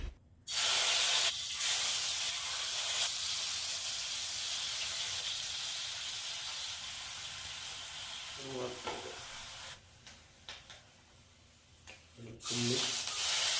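Fish curry with shallots bubbling in a pot over a wood fire: loud hissing, sizzling boil that comes in bursts with quieter gaps, a voice briefly speaking in between.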